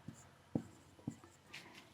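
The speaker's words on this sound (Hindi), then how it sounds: "इसको थोड़ा और छोटा लिख लेते हैं" Chalk or marker strokes on a board during a maths lecture, several short separate taps and scratches in quick succession, quiet and close with no talking.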